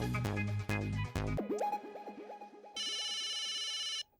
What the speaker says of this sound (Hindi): पोपट अंकल का फोन।